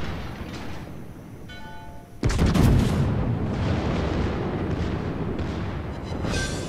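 A battleship's main guns, twelve barrels, fire a broadside at a Pensacola in World of Warships: one sudden loud boom, then a long rolling rumble of explosions and gunfire that stays dense to the end.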